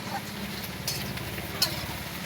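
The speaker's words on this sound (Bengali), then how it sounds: "পেঁয়াজটা লাল করে ভাজা হোক, হতে থাক।" Onions and garlic frying in a pan make a soft, steady sizzle with occasional stirring scrapes, moderately close, against a low background hum.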